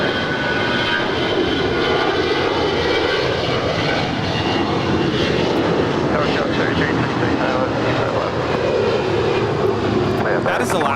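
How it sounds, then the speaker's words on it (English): An Alaska Airlines Airbus A320 departs LAX for Seattle with a loud, sustained engine roar that holds steady throughout, close and broadband, with faint radio-style talk mixed underneath. "That is Alaska Airlines 113 departing to Seattle on an A320."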